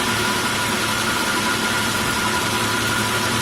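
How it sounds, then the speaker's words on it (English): Car engine idling steadily while a wheel spins freely with traction control off, checked for a bad wheel bearing; a constant broadband hum with low rumble throughout, no talk. "I have the car on, the wheel speed spinning with the traction control off."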